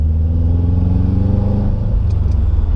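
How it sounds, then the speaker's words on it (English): Subaru Legacy GT with an STI engine swap revving loud and close, a deep steady engine roar that holds strong throughout and eases slightly near the end. "this car sounds absolutely phenomenal right now"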